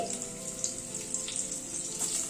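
Potatoes fry in hot mustard oil in a wok on a gas stove, a soft steady hiss with faint crackles and pops, fairly quiet and close.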